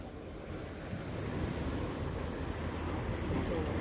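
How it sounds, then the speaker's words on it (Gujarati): A steady, rumbling wash of surf rolls in over wind noise at a shipbreaking yard shore, water surging and splashing continuously with no voices. "આ પાણી પાછું બહુ ઉડાડે છે"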